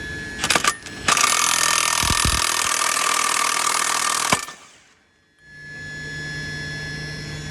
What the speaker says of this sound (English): If you can't get that bolt to pop after you've hit it a little bit with the impact